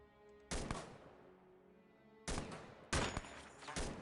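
Gunfire in The Xcom Files comes in three sharp, loud bursts of rapid shots separated by quieter gaps, close and alone with no talk.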